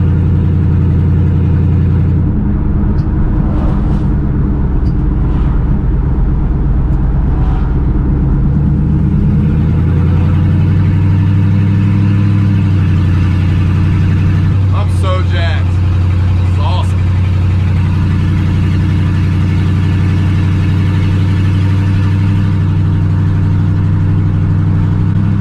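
The LS-swapped engine of a bagged C10 truck drives along through its exhaust: a loud, deep, continuous drone that swells and eases as the revs rise and fall, with brief higher rattles along the way.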